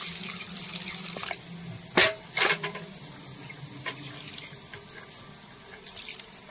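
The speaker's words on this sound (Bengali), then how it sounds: "সেই জন্য ডালটা ধুয়ে নিচ্ছি।" Red lentils being rinsed by hand in water, with soft continuous sloshing and a couple of louder splashes up close, no voices.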